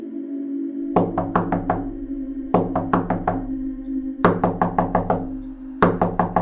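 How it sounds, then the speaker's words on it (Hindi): Loud, close knocking on a door in rapid bursts of four to five hard raps, repeated four times with short pauses between, over a low steady hum. "तभी उसे जोर जोर से किसी के दरवाजा खटखटाने की आवाज़ आती है।"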